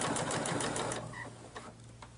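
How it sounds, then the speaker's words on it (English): A sewing machine stitches a zipper bag made with handwoven fabric using a zipper foot, whirring in a rapid close burst for about a second before stopping, leaving faint quiet clicks. "then I'm going to begin sewing"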